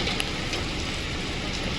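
Light monsoon rain easing off patters steadily in a continuous, even hiss, close and unbroken throughout.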